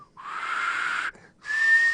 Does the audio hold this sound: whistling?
yes